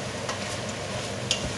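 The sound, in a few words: stirring vegetables and meat in pot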